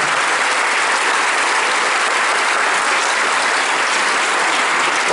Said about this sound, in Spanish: Gracias a Boris y un fuerte aplauso porque es el que lleva